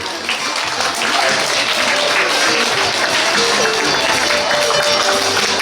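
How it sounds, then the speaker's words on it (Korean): Loud, dense applause from the crowd at a founding ceremony for a Korean gogo janggu drum association chapter, sustained and even throughout with a faint murmur of voices underneath. "뜨거운 박수로 환영해 주시기 바랍니다."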